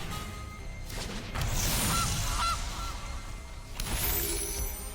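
A goose card played in the MTG Arena video game sets off a cartoonish honking effect, a couple of loud squawky honks over a noisy game soundscape with a crash-like burst in the middle.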